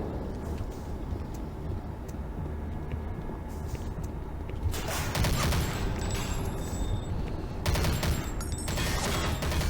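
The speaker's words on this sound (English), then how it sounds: "I'm gonna use the machine gun just to mix it up a little bit." Sustained machine gun fire in Doom 3, with dense rapid bursts getting louder midway and again near the end, set over a busy game backdrop with no talk.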